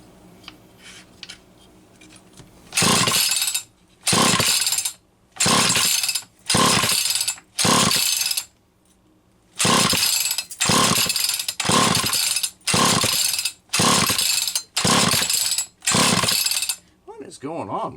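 A small engine fitted with a Walbro SDC-1 carburetor roars in loud, repeated bursts of a second or so, separated by short pauses, after a quieter stretch at the start. A voice briefly speaks near the beginning.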